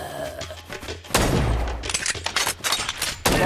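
Gunfire in the Android action shooter LegendArya, a heavy blast followed by a rapid, loud burst of shots and impacts, then another sharp report at the end.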